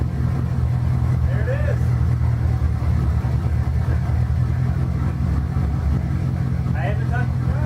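A Pontiac Firebird Trans Am engine, started by hitting the solenoid, settles into a steady low idle that runs loudly throughout, with a person talking briefly over it.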